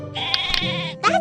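A cartoon sheep lets out a wavering, nasal bleat followed by a second shorter bleat, close and clear, with a voice-like quality.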